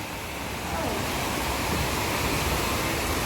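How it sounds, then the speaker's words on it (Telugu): Rainwater gushing out of pipes during heavy rain in Hyderabad, a dense, steady rushing roar like a small waterfall, loud and continuous, with no talk. "అక్కడ వాటర్ వస్తున్నాయండి పైపుల్లో నుంచి."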